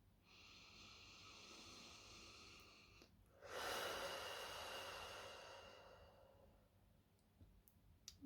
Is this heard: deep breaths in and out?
yes